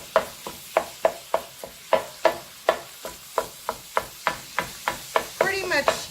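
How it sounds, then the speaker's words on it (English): Ground beef fries in a pan while a flat wooden spatula stirs it, giving a steady run of sharp, close scraping strokes about twice a second over a soft sizzle. "we're just going to fry this till our beef is cooked through"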